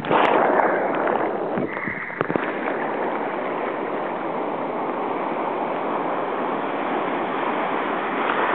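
Big surf from Hurricane Earl pounds a beach while surf fishing, a loud, continuous roar of crashing waves with wind, a brief rattle near the start.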